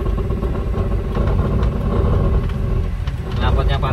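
A Toyota Avanza engine runs steadily with a loud, close rumble through its exhaust, a continuous low drone with slight clatter, while someone talks over it.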